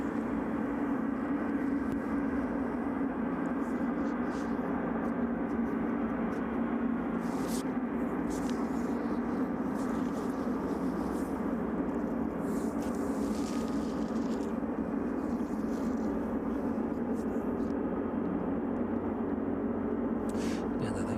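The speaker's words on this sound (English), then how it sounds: "those engines there, just roaring into life in the distance" Jet airliner engines spooling up in the distance at East Midlands Airport, a steady broad roar holding at constant level throughout with faint intermittent background noises.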